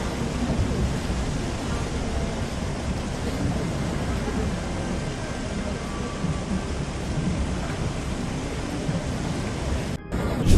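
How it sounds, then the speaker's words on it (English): Floodwater in a flooded Chinese city rushes in a steady, dense roar that fills the whole span without a break, with no voices. "the sound of rushing water"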